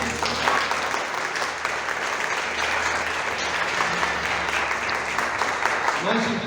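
A church congregation at a conference applauds continuously, a dense, steady wash of clapping that holds evenly from start to finish, with voices mixed in.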